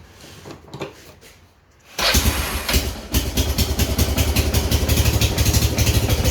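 A 2002 Kawasaki Prairie ATV engine suddenly starts and runs with the choke on, settling into a loud, steady, pulsing idle close by after a quieter stretch of handling noise.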